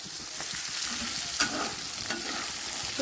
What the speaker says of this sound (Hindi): मैं फिलहाल चने को फ्राई कर दी एंड आफ्टर दैट ये तुरई मिक्स करेंगे